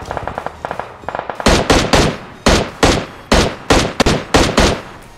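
Rapid bursts of automatic gunfire from a player shooting in PUBG, several loud close volleys in quick succession after a softer rattling stretch, with no talking.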